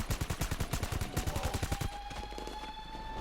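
Rapid gunfire from a firefight during the Cayo Perico heist finale in the video game GTA V, a fast run of loud, evenly spaced shots for about two seconds, then a lingering hum and faint tone.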